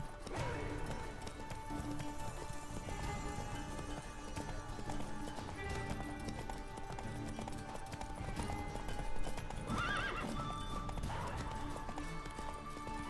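In the Witcher 3 game, a horse gallops with steady rapid clip-clopping hooves through a fight, a whinny breaking in briefly near the end, layered with game effects and music at moderate volume.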